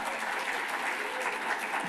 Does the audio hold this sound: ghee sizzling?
no